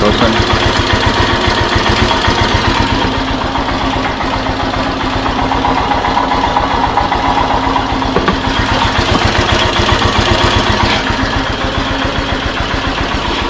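A Royal Enfield Himalayan motorcycle engine idles steadily at about 1000 RPM, a loud, close, even thumping pulse that runs without a break.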